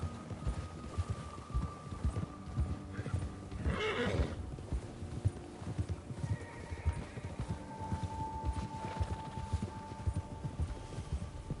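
Horse in Red Dead Redemption 2 galloping with steady clip-clop hoofbeats throughout, plus a loud neigh near the four-second mark and fainter whinnies later, alongside game ambience.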